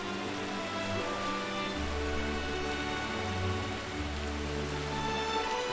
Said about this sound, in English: slowly making my way through the rain at night into Syracuse